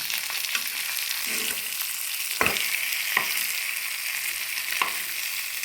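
Fish frying in oil in a pan after being turned over, a constant bright crackling sizzle up close with a few sharp stirring or tapping hits, no talk.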